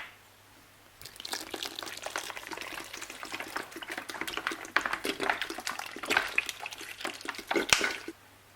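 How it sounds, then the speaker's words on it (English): Water is poured from above into a pot of plantains for porridge, starting after a brief quiet and continuing as a splashing, dribbling stream that grows busier and louder before stopping abruptly. "So we put our water now."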